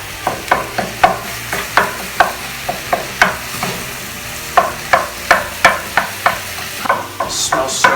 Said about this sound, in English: I'm gonna go ahead and I'm gonna add the ground turkey now